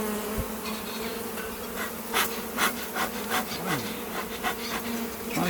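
Honey bees buzz steadily around an open, honey-heavy hive, a dense close drone, with light wooden scraping and tapping from the hive parts mixed in.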